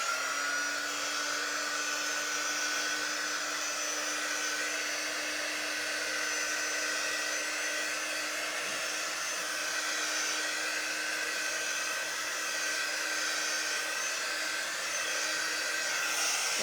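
A hair dryer blows continuously at close range on a painted sugar paste poppy, a steady whining airflow drone holding even for the whole stretch with no speech.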